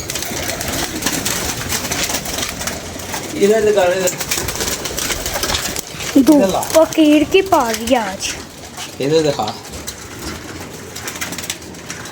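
Pigeons coo in short, repeated bursts close by, several separate calls rising over steady outdoor background noise while someone talks throughout.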